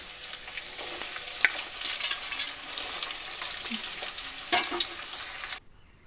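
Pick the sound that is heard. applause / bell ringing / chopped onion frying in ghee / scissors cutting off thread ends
chopped onion frying in ghee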